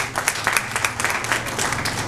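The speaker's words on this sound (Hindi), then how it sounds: "तो जनरल क़य्यूम साहब के लिए भी भरपूर तालियां हैं।" Applause from an audience at a Pakistani military ceremony honoring a general, a dense steady wash of many hands clapping continuously throughout, fairly close and full.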